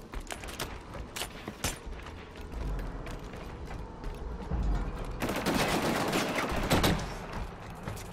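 Weapon reload in Killzone Shadow Fall during a 3v3 online match: a run of sharp mechanical clicks and ratcheting clacks, with sustained gunfire and harsh noise rising partway through.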